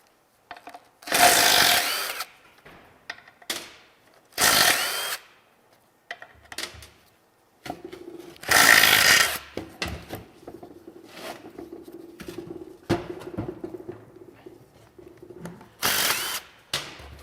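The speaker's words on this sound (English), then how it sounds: "we can go ahead and at least remove the bolts for the PTO covers" A power tool on an NV4500 manual transmission zips bolts out of the PTO covers in several loud, separate bursts of a second or so each, with quieter ratcheting and clinking in the gaps, close up.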